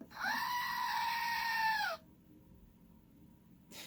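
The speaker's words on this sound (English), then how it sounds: "I love how he scales with the screaming goat" A screaming goat novelty toy lets out one loud, harsh, drawn-out bleating scream lasting about two seconds, followed by near silence, with no one talking.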